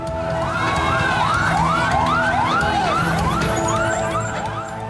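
Fire engine sirens wail loudly and close at a market fire, several rising and falling tones overlapping continuously for the whole stretch with traffic rumble beneath.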